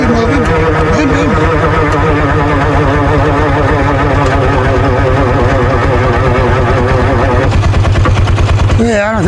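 A utility vehicle (mule) engine runs on a hillside with a loud, rapid chugging pulse and fluctuating tones, close and steady, a person talking over it.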